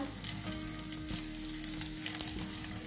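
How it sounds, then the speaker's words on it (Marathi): Bombil fish frying in hot oil, giving a steady close crackling sizzle with small pops and a faint stir near the end, no voices. "तर बघा इथे हे छान असे तेलावर फ्राय झालेले आहेत"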